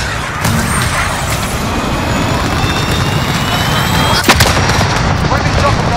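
Missile strike in the Modern Warfare shooter game, a loud continuous rumble of distant explosions and aircraft engine noise, with a sharp burst partway through and faint radio voices.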